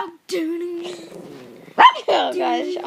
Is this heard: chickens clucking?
no